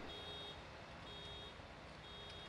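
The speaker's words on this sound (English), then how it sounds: "Can you hear the buzzer?" Reversing-beep buzzer of a vehicle in the Farming Simulator video game, faint evenly spaced tones repeating about once a second over a constant engine hum.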